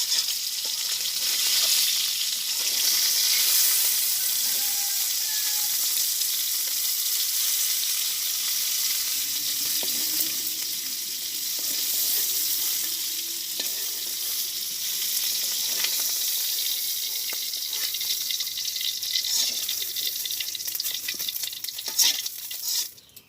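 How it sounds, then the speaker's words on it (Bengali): Fish frying in oil in a wok in a Bangladeshi village kitchen gives a steady, close, bright sizzle that hisses on without pause, with faint stirring underneath and no voices. "তো বন্ধুরা আমার মাছ ভাজি হয়ে গেছে,"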